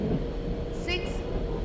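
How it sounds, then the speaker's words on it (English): A Goods Express train rolls into a station platform in the Indian Train Simulator game, a steady heavy rumble with brief high tonal squeals partway through. "Goods Express is arriving at platform number 3."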